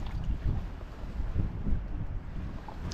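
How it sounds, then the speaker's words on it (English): Gusty wind rumbling against the microphone in uneven low bursts beside the River Dee in Scotland, continuous throughout with no voices. "It's still a bit windy"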